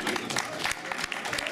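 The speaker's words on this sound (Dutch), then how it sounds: "Hoor die applaus." Applause from the crowd at a fire brigade competition prize ceremony in Rijnsburg, a brief burst of steady clapping with scattered sharper claps and some crowd noise mixed in.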